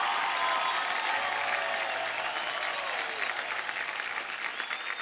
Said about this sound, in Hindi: सभी माओं के लिए एक बार जोरदार सभी तालियां